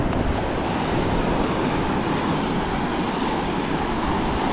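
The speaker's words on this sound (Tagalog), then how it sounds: "Yan ang mga gusto natin kasi mga maalon." Rough ocean surf with big choppy waves, a steady broadband roar of breaking water filling the scene without pause and no voices over it.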